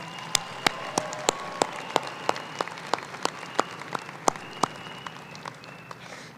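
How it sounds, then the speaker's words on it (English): Graduation convocation crowd for a school of aviation applauds in a hall, a moderate, fairly even patter of clapping with a few crisp louder claps standing out, fading toward the end. "And can everyone give him a round of applause,"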